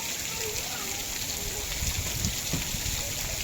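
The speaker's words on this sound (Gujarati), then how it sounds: "ધોધમાર વરસાદ ખેતરું ભરાઈ ગયા પાણીના" A heavy downpour falls over flooded farm fields near Dhundhiya Pipariya in Vadia, a dense, unbroken roar of rain with faint voices underneath.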